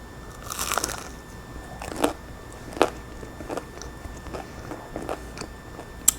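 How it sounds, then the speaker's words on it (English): Bites into a crunchy gluten-free vegan bagel spread with cream cheese: a handful of sharp, close crunches spaced a second or so apart, with quieter chewing crackles in between. "So you get a nice crunch, I don't know if you could hear it when I bit into it"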